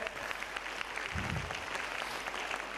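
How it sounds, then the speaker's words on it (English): A keynote audience gives itself a round of applause, a steady but fairly faint patter of clapping heard from a distance, with a brief low thump partway through. "Give yourselves a clap there."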